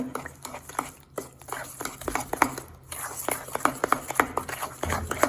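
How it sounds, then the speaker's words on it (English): Oil being stirred into banana bread batter in a bowl, with soft irregular scraping and clinking of a utensil close by, steady strokes with brief pauses. "we're just gonna mix this really well to get it combined"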